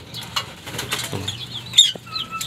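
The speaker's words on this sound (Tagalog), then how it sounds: "So ayan mga ibon natin, nagwawala na sa kulungan." Caged pigeons flapping their wings in bursts, rustling and fluttering close by, with a few faint chirps.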